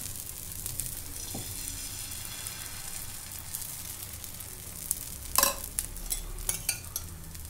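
Dosa-style batter cooking on a hot pan gives a quiet, steady sizzle, broken by a few close clinks and scrapes of a utensil in the middle stretch, with no voices.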